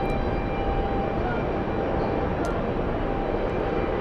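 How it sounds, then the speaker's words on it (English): A large Swiss airliner taxis at JFK airport, producing a steady, loud engine rumble and roar that stays constant throughout, heard nearby from the spotting area. "Swiss taxiing in front of us"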